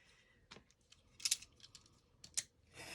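Paper strips about four inches wide being cut with scissors at a crafting desk, a few sharp snips and crisp rustles spaced out, quiet and close with no talk.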